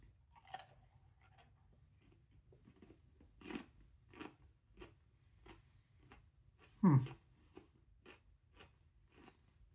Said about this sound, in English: I'm going to eat some more cauliflower